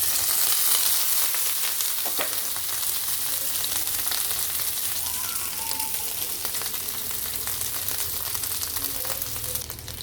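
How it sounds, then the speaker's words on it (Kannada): Fish fries in coconut oil, producing a loud, continuous hissing sizzle with occasional faint spatters throughout. "ಮೀನನ್ನು ಹಾಕ್ಕೊಂಡು ಫ್ರೈ ಮಾಡ್ಕೊಳ್ಳೋಣ."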